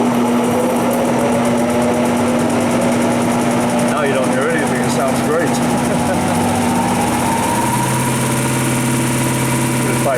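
The spindle of a Bridgeport Harig 618 EZ-SURF CNC surface grinder runs with a steady, loud mechanical whine and hum, and a person talks over it.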